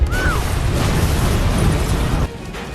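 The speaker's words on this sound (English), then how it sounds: "Their actions caused a gas leak in the house, which eventually led to a deadly explosion." A house explodes from a gas leak in a film scene, giving a loud broadband blast with a roaring rumble that holds for about two seconds before dropping off into quieter residue.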